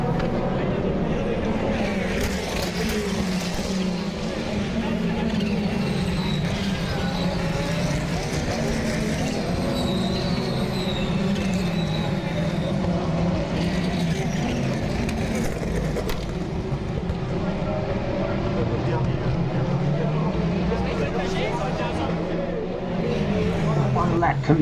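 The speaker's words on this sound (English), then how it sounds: "These cars will now be racing for the next 24 hours" Race cars roaring around the circuit at the 2022 Le Mans 24 Hours in France, a continuous loud wash of engine noise with cars passing under steady talk.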